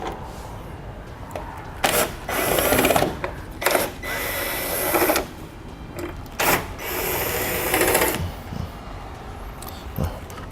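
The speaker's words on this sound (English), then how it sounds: "We need a 7mm socket in order to remove the screws." A 7mm socket ratchet works loose the headlight screws on a 2015 Chevrolet, heard as several bursts of close mechanical clicking separated by short pauses.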